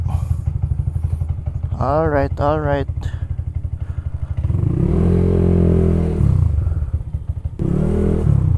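A Honda Click scooter fitted with a 260 mm Galfer brake disc on a test ride: a close, steady engine drone that rises and falls as it revs, with someone talking over it.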